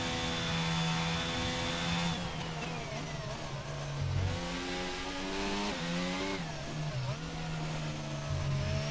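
Red Bull race car in a racing video game at Britain, its engine screaming loud and close through repeated gear changes, with falling and rising revs as it brakes and accelerates through a set of corners.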